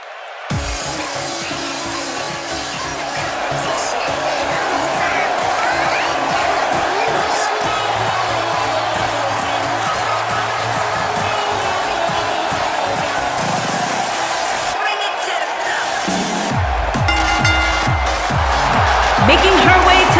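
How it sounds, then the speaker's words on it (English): Arena crowd roar from a WWE 2K18 wrestling match, a steady dense wall of cheering and noise with music-like tones underneath, loud and continuous throughout and swelling toward the end. "The crowd here tonight certainly seemed to appreciate the efforts."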